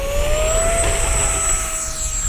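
Arrows RC Sabre F-86 64mm electric ducted-fan jet model taking off, a steady loud whine with a high rising tone over broad airy rush, continuous throughout.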